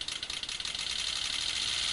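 Rapid, steady mechanical pulsing with a hissy, buzzing edge from a Stanley Meyer water fuel cell HHO injector simulating about 60 mph, firing quickly and continuously, with no voices.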